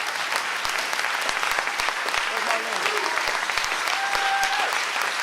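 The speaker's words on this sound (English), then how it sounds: "Give him a round of applause" A round of applause from the audience at a fundraising gala, dense continuous clapping throughout with sharp individual claps standing out, and a voice faintly heard beneath it.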